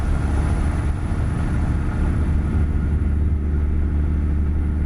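A Scot A2HD truck engine in American Truck Simulator drones low and steady under throttle in high gear, with the windows closed. The loud, continuous rumble sits close, with no talk over it.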